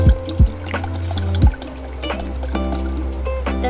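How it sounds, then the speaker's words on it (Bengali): Water is poured into a cooking pot at home, a close splashing fill heard alongside a few dull knocks of the pot and utensils. "দেখো জলটা দিয়ে দিয়েছি"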